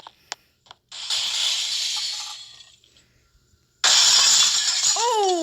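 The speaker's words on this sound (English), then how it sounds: "Uh oh, glass shattering." Glass shatters outdoors during a hurricane. There are a couple of small knocks, then two loud bursts of crashing and tinkling breakage separated by a short lull, with a brief rising whine near the end.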